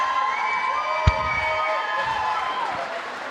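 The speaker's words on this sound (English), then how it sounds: "Just listen to that crowd, folks." An arena crowd cheers and roars continuously after a championship win at the NSC Season 3 finals, with one sharp bang partway through and steady shouting throughout.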